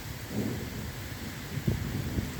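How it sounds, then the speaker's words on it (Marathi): Thunder rumbles low and steady through a heavy rainstorm over farmland, with the hiss of rain continuous throughout. "ढगांचा कडकडाट चालू आहे"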